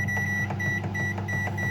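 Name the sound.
microwave oven running and beeping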